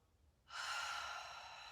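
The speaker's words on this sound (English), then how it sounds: "Breathing out." A person breathes out deeply during yoga. After a quiet moment comes a single long, soft, airy exhale through the mouth, close and gentle, fading slowly.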